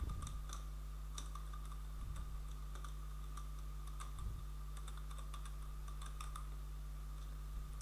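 Typing HTML code on a computer keyboard, with scattered key clicks in an irregular rhythm over a steady low electrical hum, close and fairly quiet, with no talking.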